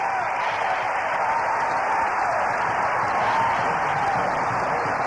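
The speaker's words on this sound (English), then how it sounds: "Listen to that crowd." Crowd noise in a college basketball arena during a UConn–Western Kentucky game, a steady loud roar of cheering voices sustained without a break, with a commentator talking over it.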